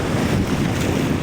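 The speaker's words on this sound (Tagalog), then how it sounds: "solid din yung alon ah" Strong sea waves wash against a small fishing boat out on open water, a brief roar of surf mixed with heavy wind buffeting the microphone.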